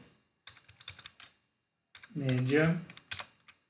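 Quick key clicks from a computer keyboard as a formula is typed, arriving in short bursts, then a voice speaking briefly over the last few taps.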